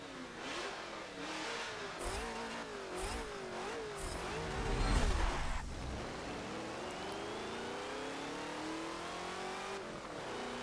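The Hellcat-style engine of a Fate of the Furious car in Forza Motorsport 7 revs up and down repeatedly, rising and falling through gears, loud and close, then settling into a sustained high pitch.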